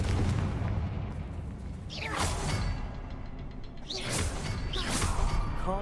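Confringo spell explosions in a Harry Potter video game fight against acromantula spiders: loud booming blasts with rushing whooshes, two or three bursts over a dense, roaring game soundscape.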